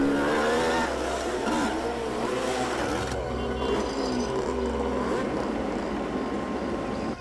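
Motorbikes arrive during a bike race, engines droning and revving with shifting pitch over a steady low rumble, loud and continuous throughout.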